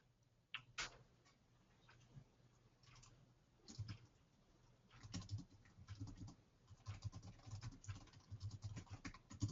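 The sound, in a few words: computer keyboards typing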